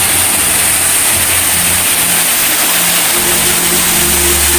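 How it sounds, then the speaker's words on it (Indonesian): A jungle waterfall pours with a steady, loud, broadband rushing roar that fills the whole clip, with a faint low hum beneath it and no voices. "ada air terjun dan ada lubang gua ternyata"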